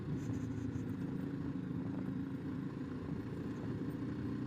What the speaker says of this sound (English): This is the first time I've ridden the bike on unimproved road